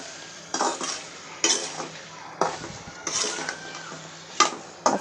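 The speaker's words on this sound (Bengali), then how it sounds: "এখন আমি এই ডাঁটাগুলোকে কষায় নিতেছি" Malabar spinach stems being sautéed in a pan, with repeated scraping and stirring strokes of a utensil against the metal over a faint sizzle, heard up close with no talking.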